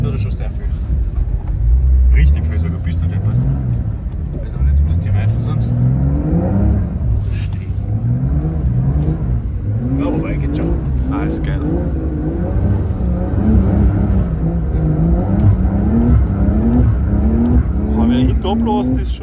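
Porsche 992 Dakar driven through deep snow, its engine droning low and then revving up and down repeatedly in rising and falling pitch sweeps, loud and close throughout, with occasional voices inside the cabin.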